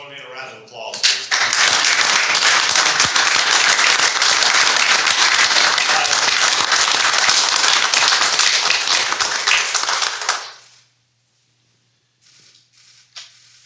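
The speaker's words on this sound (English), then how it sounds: "Join me in a round of applause, please." An audience at a city council meeting breaks into loud, sustained applause for about nine seconds, then it stops abruptly into near silence.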